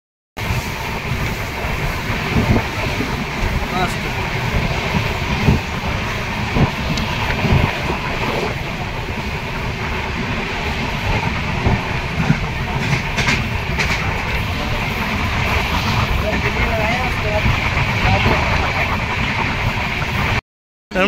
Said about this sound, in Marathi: ही काय विनेरेला थांबत नाही म्हणा ट्रेन.